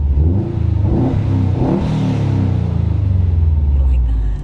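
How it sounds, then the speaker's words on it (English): Subaru STI engine revving on a mountain touge road, a loud close rumbling rev that rises and holds steady with a low droning exhaust note, and a voice talking over it. "pure Subi sounds now."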